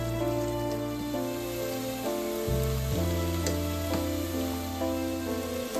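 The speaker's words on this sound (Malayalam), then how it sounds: "അത് കഴിഞ്ഞ് അത് മിക്സ് ചെയ്ത് ഒന്ന് സോട്ട് ചെയ്യാം." Onions sautéing in oil in a pan for Andhra-style pepper chicken, a soft continuous sizzle running under prominent background music.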